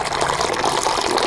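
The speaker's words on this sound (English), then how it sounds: "Let's add some water." Water poured into a mixing container of crushed toy pieces, a steady broad splashing and trickling pour that lasts throughout, close and fairly loud, with no talking.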